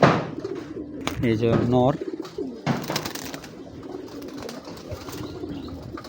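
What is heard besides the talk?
Bezi pigeons cooing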